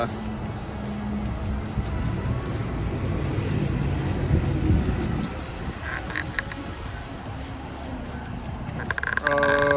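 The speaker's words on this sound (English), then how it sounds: "Nothing to see here, just this casual bulldozer just driving down the road." A bulldozer drives down a road, its heavy low engine rumble loud at first and then dropping away after about five seconds, with scattered clicks and light knocks close by.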